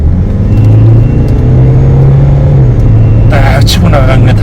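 A car with a freshly bored engine accelerates at full throttle, giving a loud, steady low drone and rumble with a brighter whir building near the end.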